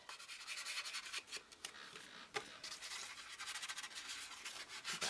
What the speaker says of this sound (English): You just go all the way around, blot, and then come back and rub it around.